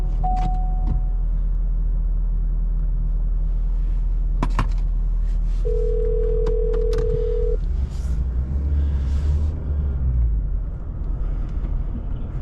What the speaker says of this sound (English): Just parking my truck right now.